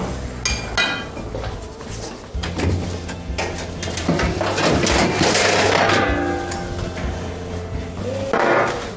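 Metal clanks and clinks as a pan is handled and set down, several sharp knocks scattered across the clip with kitchen rattling between.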